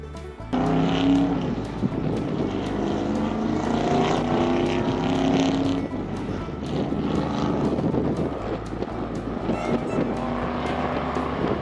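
Race cars at a track event, eight cars sent out two at a time for three laps, roar past in a loud, continuous engine drone that swells and shifts steadily throughout with no talk.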